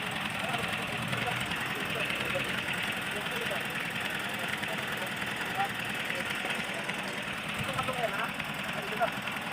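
A 2015 Toyota Yaris engine with an overheating fault idles steadily up close, a constant rough mechanical drone with light knocking texture and no break across the whole stretch.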